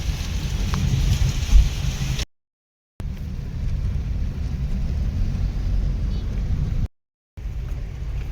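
Heavy rain roars steadily against a vehicle driving the Mangalore–Bangalore highway through Shiradi ghat, a dense continuous wash of noise with a low road rumble, cut by two brief silences.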